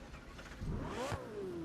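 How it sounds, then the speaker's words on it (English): A McLaren 720s Spider in The Crew 2 fires up, the engine catching and revving with rising and falling whine, heard from inside the car at moderate, steady loudness. "Let's start the engine."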